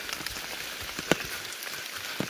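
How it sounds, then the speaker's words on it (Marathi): Light drizzle falling outdoors during the first rains, a soft continuous patter with a few sharper drop ticks, steady and fairly faint, with no voices. "पाऊस बारीक बारीक अजून आहेच"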